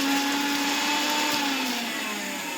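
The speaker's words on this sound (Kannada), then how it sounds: "ಅದನ್ನ ಮಿಕ್ಸಿ ಇದರಲ್ಲಿ ನೈಸಾಗಿ ರುಬ್ಕೋಬೇಕಾಗುತ್ತೆ." A kitchen mixer grinder grinding ingredients to a fine paste, a loud, steady high-pitched motor whine with a slight downward drift in pitch, close and uninterrupted.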